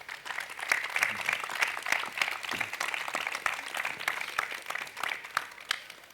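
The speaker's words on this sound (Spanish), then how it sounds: "les damos un fuerte aplauso a los tres" Hearty audience applause for three speakers at a book and history talk: dense, sustained clapping with sharp individual claps over about six seconds, with faint voices underneath.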